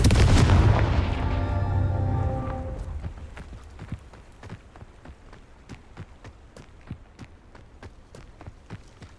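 A Confringo explosion spell from Hogwarts Legacy erupts in a loud booming blast that rumbles and fades over a few seconds, then gives way to a quick run of crisp footsteps.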